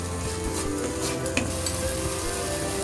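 Spice paste for prawn malai curry being stirred and fried in a pan, a constant close sizzle with the scrape and clink of a spoon against the pan, no voices.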